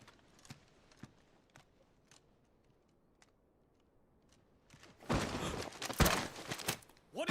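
Horse hooves in Final Fantasy 16 clop in sparse, quiet single steps at first, then give way to a louder burst of busy clatter and rustling near the end.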